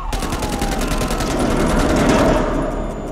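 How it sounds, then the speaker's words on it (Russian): Sustained rapid automatic gunfire in the video game Man of Medan, loud and close, a continuous rattling burst of shots that runs almost without pause. "стреляй в него, а не мимо!"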